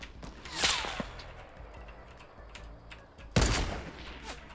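Gunfire in the Fortnite video game, two sharp bursts of shots about three seconds apart, each loud and quickly fading, with a quieter stretch in between.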